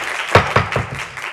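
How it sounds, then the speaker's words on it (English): Applause at a commission meeting, a handful of distinct loud claps spaced in an uneven rhythm, close and sharp, tapering off toward the end. "If we can please hold down the applause."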